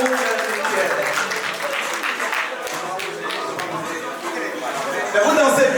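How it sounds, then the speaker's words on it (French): Audience applause at a business summit in a dance-filled hall, a steady wash of clapping mixed with crowd chatter and voices throughout, swelling slightly louder near the end. "applaudissez très fort pour vous"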